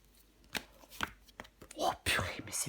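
Tarot cards are handled during a reading, with a few soft slaps and a quick shuffling rustle close by, while a voice talks quietly.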